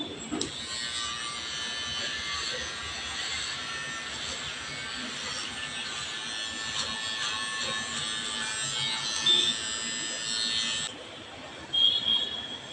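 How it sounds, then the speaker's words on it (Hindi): An electric hair trimmer buzzes steadily at close range in a home haircut, a constant high whine that runs without a break for about eleven seconds, then cuts off, with a brief flicker of noise after. "जब आप ट्रिमर चलाओगे तो स्किन में ज़्यादा प्रेशर ना दे"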